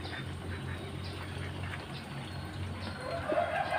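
Farmyard ducks, some stricken by a paralysing duck disease, give soft quacks over low steady background noise, with a brighter burst of calls toward the end.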